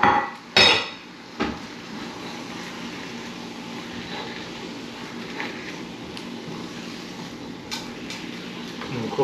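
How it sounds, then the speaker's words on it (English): Gluten-free risotto mixed in a pan, with a couple of sharp scraping clanks of a utensil against the pan at the start, then a steady soft stirring noise with occasional light knocks, no talking. "We're going to put our risotto in here. We're going to"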